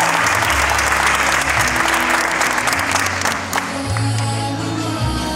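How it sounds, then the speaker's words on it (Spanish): Steady, loud clapping rolls through the audience at a school graduation ceremony in Chile, with a low background hum and faint voices beneath the applause. "Le brindamos nuevamente un fuerte aplauso a nuestros estudiantes"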